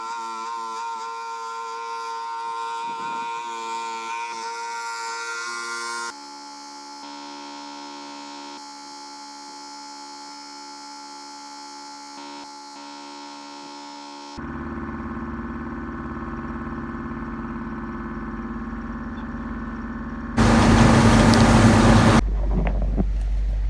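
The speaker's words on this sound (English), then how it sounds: "So I'm just gonna move the auger here now and unload this." A grain auger runs while unloading oats, a steady mechanical drone with humming tones that shifts in pitch and level across several segments, growing louder and rougher toward the end.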